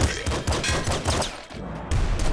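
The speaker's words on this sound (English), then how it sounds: "The flame shotgun. Double flame shotgun, rather." Double flame shotgun firing in Nuclear Throne, a rapid run of about eight punchy blasts in quick rhythm, loud and close, with a brief gap near the end before firing resumes.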